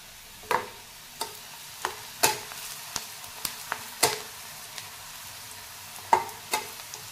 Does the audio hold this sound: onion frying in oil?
yes